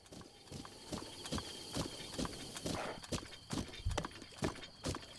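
Horse hooves clip-clopping in The Legend of Zelda: Breath of the Wild, a steady walking rhythm of about a dozen close, distinct hoofbeats over low background game ambience.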